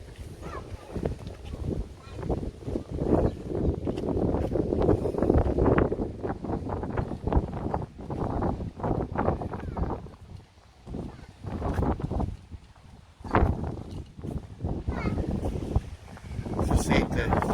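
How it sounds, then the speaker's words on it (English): Gusty hot wind buffets the microphone in rough, uneven rumbles throughout at Marmaris Castle, Turkey, with people talking underneath. "As I said, it's a bit windy, and the wind is a hot wind"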